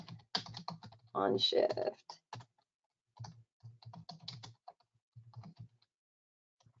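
Computer keyboard keys tapped in short irregular bursts of clicks, close and quiet, with a voice speaking briefly between the taps.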